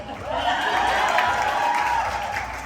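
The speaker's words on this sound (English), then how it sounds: "Everyone give them a round of applause." Steady audience applause at a Hispanic women's beauty pageant celebration, a dense continuous wash of clapping with crowd murmur and a little laughter mixed in.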